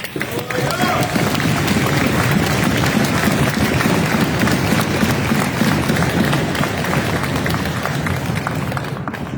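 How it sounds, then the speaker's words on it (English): An audience at a summit gathering applauds for several seconds, a full, close wash of clapping with crowd noise underneath and a voice or two mixed in, tapering slightly at the end. "Give yourself a round of applause, man."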